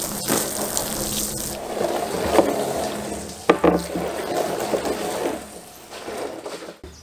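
Water pouring out of a hole drilled in a plastic rain barrel, a loud continuous gushing splash with a few knocks and bumps as the barrel is handled, fading near the end.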